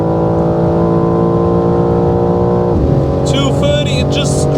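A 2025 BMW M4 engine roars at high revs over 7,000 rpm on the autobahn at about 230 km/h, a steady harmonic drone dropping in pitch briefly before climbing again, close and loud throughout.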